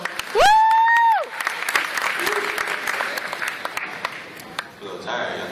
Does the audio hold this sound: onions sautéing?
no